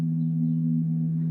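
A modular synthesizer's steady constant tone, processed through a Mutable Instruments Clouds module with reverb, holds as a single smooth, unbroken drone at even loudness throughout, with no voices.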